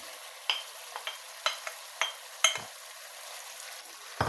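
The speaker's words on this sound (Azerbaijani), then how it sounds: "yaxşıca qarışdırırıq ki, hamısı bir yerdə pişsin." Tomatoes being stirred into spaghetti sauce in a pan, with a steady soft sizzle and repeated scraping strokes about every half second, close and fairly quiet, ending in a low knock.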